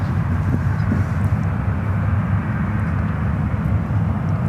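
A United Airlines Boeing 737 MAX 8 jet airliner landing at SFO, a loud, steady low engine roar that stays even and close throughout, with no other sounds on top.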